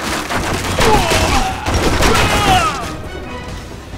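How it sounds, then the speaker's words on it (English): Heavy machine gun fire in the action game Stranglehold, a dense, loud continuous barrage with crashing impacts and debris that eases off toward the end, with a voice faintly mixed in. "The HMG, and I'm gonna show it off a little bit."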